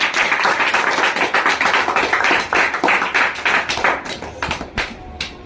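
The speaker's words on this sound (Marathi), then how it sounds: "टाळ्या टाळ्या, सगळ्यांसाठी टाळ्या" Dense applause from a small group for students who have just sung the Maharashtra state song in a class, steady clapping throughout that thins out and tapers off near the end.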